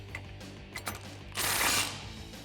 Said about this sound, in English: Now you can grab your 19mm socket and tighten this down.